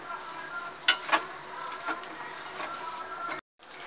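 Vermicelli roasting in ghee over a full flame, a steady close sizzle with a few sharp scrapes and clinks of a spoon being stirred, cutting out abruptly near the end.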